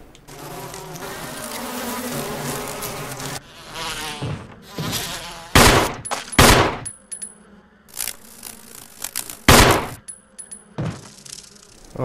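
A swarm of bees buzzes in the Resident Evil HD video game, a dense drone that stays steady for the first few seconds, then gives way to sharp bursts and scattered buzzing strikes.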